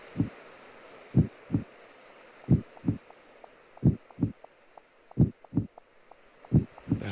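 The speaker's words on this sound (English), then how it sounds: "heartbeat." Heartbeat sound effect from the video game Tomodachi Life: a steady, soft lub-dub pulse of paired low thumps repeating about once a second over a quiet background hum, with no talking.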